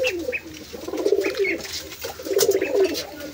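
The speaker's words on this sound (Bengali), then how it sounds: "এই যে মুখী কবুতরটা মাদির পিছনে ডাকছে" A male pigeon coos close by in two rolling, throaty phrases with brief soft chirps between them, loud and clear with no talking.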